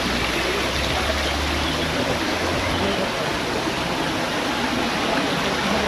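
Clear, cold water of a waterfall rushing steadily in a dense, unbroken roar that fills the scene, loud and close with no pauses.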